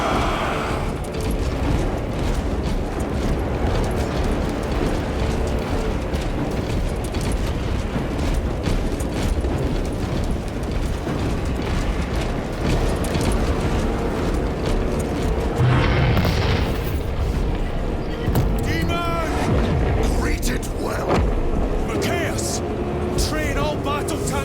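Deep artillery booms and rolling explosions rumble through a battle in Warhammer 40K Space Marine 2, a steady loud roar of bursts under shouted voices and battlefield noise.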